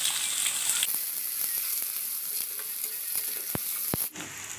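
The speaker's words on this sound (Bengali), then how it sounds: "তেলটা আমার গরম হয়েছে, আমি পেঁয়াজ দিয়ে দিব।" Onions frying in hot oil, a loud continuous sizzle with occasional stirring clicks and scrapes, close up, easing off briefly near the end.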